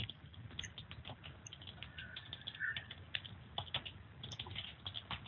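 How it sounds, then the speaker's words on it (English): Someone types on a computer keyboard, producing a quiet, steady patter of rapid clicky keystrokes with uneven rhythm over a low background hum. "Someone's typing."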